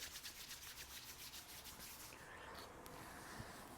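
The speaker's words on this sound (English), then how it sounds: "we can rub our hands together" Palms rubbed together at the close of a seated meditation, a soft, quiet, continuous swishing friction heard alone with no voice.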